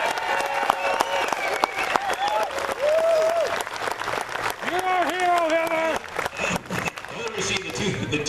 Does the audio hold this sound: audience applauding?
yes